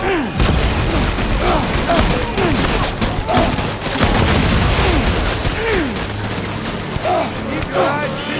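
Gunfire in a Death Stranding battle, rapid close volleys of rifle and machine-gun shots cracking over a rumbling game backdrop, with shouted voices mixed in among the bursts.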